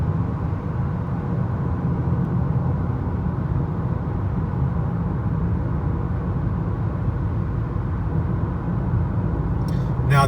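Steady, even road and wind roar inside a 2018 Honda Accord 2.0T Touring cruising at 65 mph, a continuous low rumble with no talk, ending in a brief click.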